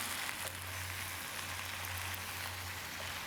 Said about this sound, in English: Well, she is frying and stirring.